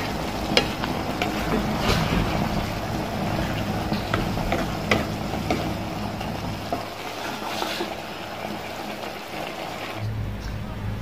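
Food sizzles and scrapes in a hot wok as it is stir-fried continuously, a dense crackling texture with occasional metallic clinks.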